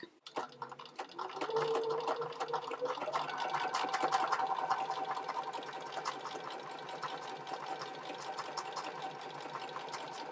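A sewing machine fitted with a universal 90-14 needle stitches through microsuede fabric for doll leather jackets. It gives a steady close mechanical whir after a few opening clicks, with faint rattling beneath and no speech.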